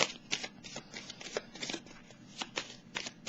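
Tarot cards are shuffled in quick, papery riffles and slides, a run of soft bursts at close range with short gaps between them and no voices.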